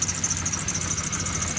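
A 2000 Dodge Neon engine runs after a PCV hose repair, idling in a steady, even drone with a faint high whine riding above it, close and continuous with no voices.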